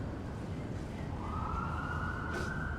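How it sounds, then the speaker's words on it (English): Ambulance siren on a city street at Yonge and Eglinton in midtown Toronto in winter, a steady wail rising out of constant traffic noise partway through, moderately distant and not very loud. "Oh, it's an ambulance turning south down Yonge Street."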